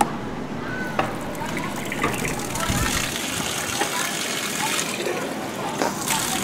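Water rushes out steadily after a valve is opened on an aquaponics swirl filter, a continuous gushing flow with a few clanks and a voice talking over it.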